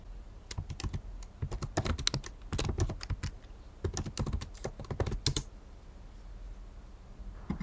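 Typing on a computer keyboard while labelling a line in a concept map, rapid irregular bursts of crisp key clicks with short pauses between runs, close and fairly quiet with no speech.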